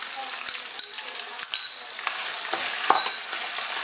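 Pepper, ginger and garlic sizzle and fry in a pan for an okra stew, a steady crackling hiss broken by stirring clinks and scrapes, close and continuous.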